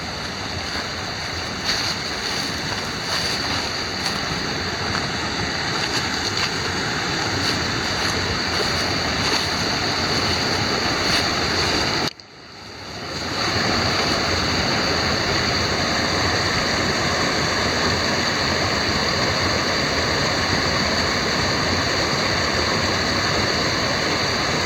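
Water rushing down a natural slide in a stream beside a trail bridge, a steady loud roar of churning flow that holds constant throughout, with a brief dropout partway.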